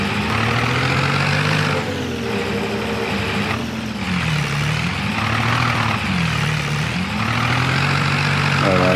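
A tractor engine in a farming simulator game labors continuously, its droning pitch rising and sagging as it struggles under load, loud and steady throughout.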